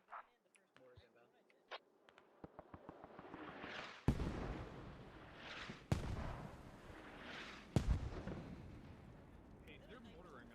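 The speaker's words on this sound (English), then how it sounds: "Hey, they're mortaring us, by the way." Mortar shells explode in Squad, three heavy booms a couple of seconds apart with long rumbling tails, preceded by quieter sharp clicks and pops.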